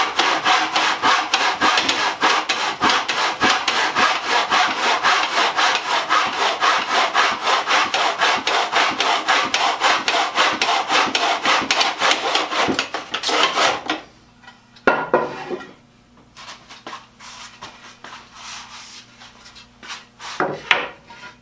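Hand saw cutting wood picture frame pieces held in a Stanley 358 mitre box, a loud, steady rasping back-and-forth for about thirteen seconds, then the saw stops and a few knocks and handling sounds follow.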